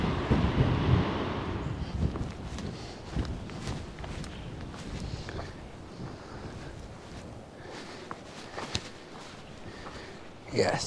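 Strong wind buffets a microphone beside a bench with sea views, a steady roaring rush with gusts and faint footsteps, and a person talking over it.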